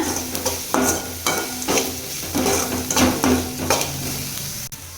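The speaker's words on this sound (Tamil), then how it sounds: "கொஞ்சமாக மஞ்சள் தூள், கொஞ்சமாக பெருங்காயத்தூள், சேர்த்து வதக்கிக்கோங்க" A dosa filling sizzles in a pan as turmeric and asafoetida are sautéed into it, with a spoon scraping and clinking against the pan in repeated strokes over a constant, close frying hiss.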